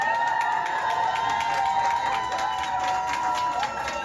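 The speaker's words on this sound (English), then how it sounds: "The NICU team at Mercy Hospital on Long Island cheering on Trinity Alexandria Rose Taylor as she was finally discharged Wednesday after nearly 5 months." A NICU team at Mercy Hospital on Long Island cheers as a premature baby is discharged after nearly five months, a steady, fairly close crowd of voices whooping and calling out together over the full stretch.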